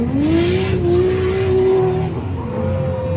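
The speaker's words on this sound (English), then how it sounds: "It makes all the good power noises from that Jay-Z." Nissan S14 drift car with a JZ engine, formerly a drag car, revs hard at a drift competition, its engine note holding a steady high pitch with a slight drop and recovery, loud and close, with tire noise mixed in.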